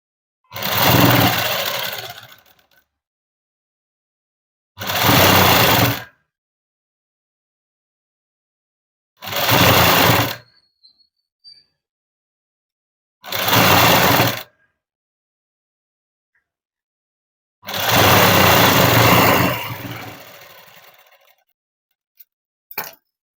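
A sewing machine runs in five separate bursts, each lasting one to three seconds, as it stitches the end of a dress. The motor whirs loudly and close, with silent pauses between bursts.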